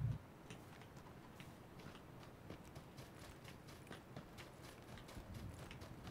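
Footsteps of a character in the battle royale game PUBG (Battlegrounds), a quiet, steady series of soft thuds in an even walking rhythm under low background noise, with no talking.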